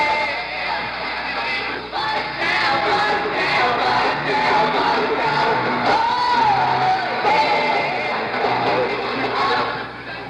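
A young crowd of teenagers at a 1972 comeback concert cheers, whoops and yells wildly in a dense, loud, continuous roar that fills the whole stretch.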